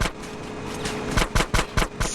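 Gunfire in GTA San Andreas: a rapid series of sharp, evenly spaced shots firing in quick bursts over steady background game noise.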